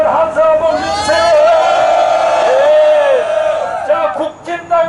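A large rally crowd lets out a loud, unified shout of cheering that holds for about four seconds, then trails off into scattered yells.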